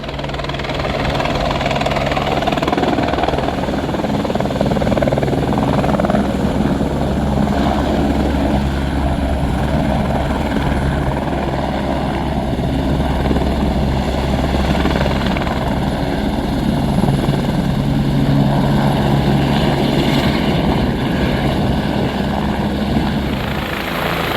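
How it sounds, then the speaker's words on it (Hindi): Steady, loud helicopter rotor drone with a deep engine rumble at the Kedarnath helipad, continuous throughout with no talking. "हेलीकॉप्टर के शोर में कुछ आपको शायद सुनाई ना दे"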